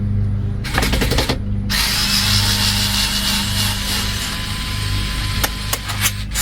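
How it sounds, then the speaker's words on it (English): A small electric screwdriver drives screws, with two short whirring bursts, one early and one near the end, separated by a stretch of steady room noise. "these little electric screwdrivers really make quick work of this kind of stuff"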